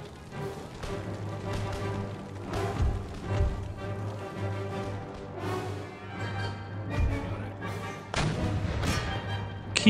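Artillery guns booming in Empire: Total War, with heavy thuds repeating at irregular intervals over a low, steady battlefield rumble and a louder blast near the end.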